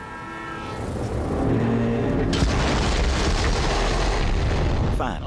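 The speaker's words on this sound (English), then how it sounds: "Boom. The explosion echoed through the forest" A loud explosion in the video game Borderlands 3 during a train mission, a heavy boom that swells into a sustained roaring rumble with rail-like rattling, loud and continuous.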